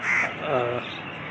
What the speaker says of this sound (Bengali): একটা পাখি উড়ে চলে যাচ্ছে